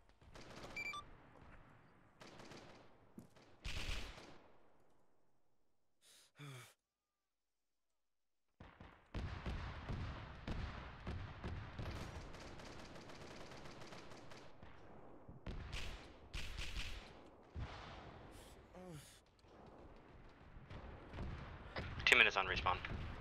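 Gunfire in the Arma 3 military game, bursts of shots and rumbling fire coming in uneven clusters with a brief quiet gap, busy and moderately loud, with radio-style voices speaking over parts of it.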